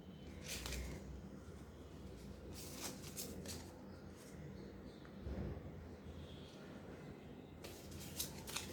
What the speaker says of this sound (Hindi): पहले मैं सारे कार्ड्स शफल करके लगा दूँ।